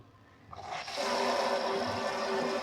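Water from a tap extender fitted to a kitchen sink faucet, starting as a faint trickle and swelling into a steady, fairly quiet rushing stream.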